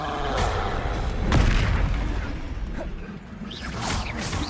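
A Confringo blasting spell erupts in a Harry Potter video game battle, a deep boom with whooshing debris and a rumbling tail, followed by fainter mechanical rustles.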